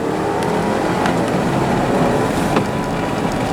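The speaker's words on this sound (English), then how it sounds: "Now we're putting it in Sport Plus so you can see how the car holds on to gears longer." A 2019 BMW X4 xDrive30i (G02) accelerating hard in Sport Plus mode, holding gears longer, heard through an open window: a steady, loud engine roar and rushing noise that never lets up, with no talking.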